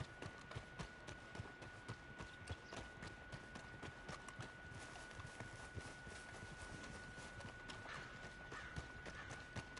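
Rapid hoofbeats of a galloping horse in the video game Red Dead Online pound steadily and densely throughout, loud and continuous with a thin steady tone running beneath.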